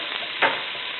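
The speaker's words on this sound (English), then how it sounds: "We're sauteing our rice here." Rice being sauteed in a hot pan over medium-high heat, a steady close sizzle with one brief louder stir or toss partway through.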